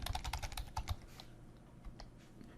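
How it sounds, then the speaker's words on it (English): A computer keyboard clatters with rapid, close keystrokes, a dense burst of clicks for about a second before it thins to a few quieter taps and fades. "and I'll type in my full name"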